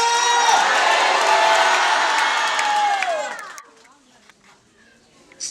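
A church congregation cheers and shouts loudly, with some clapping in a dense, sustained crowd roar lasting about three seconds, then cutting off abruptly to quiet room noise.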